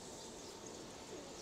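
Faint, soft cooing from old pigeons kept as pairs, a low murmur blended into steady background noise with no clear individual calls standing out.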